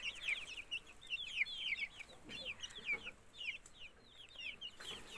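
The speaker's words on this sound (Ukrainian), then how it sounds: "А нас курочка захотіла на яйцях посидіти, висиділа всяких рябеньких." Hens clucking and chirping softly in a backyard coop, a series of quick repeated calls in short bursts, moderately close but quiet over faint background noise.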